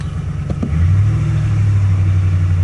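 A 2-valve 4.6-liter engine with an electronic throttle pedal revs up from idle, a couple of quick blips giving way to a loud, sustained droning hold close by, with no talking.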